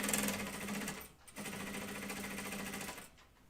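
Sewing machine stitching a flight suit garment in two steady bursts of rapid mechanical whirring, broken by a brief pause and ending as the motor stops.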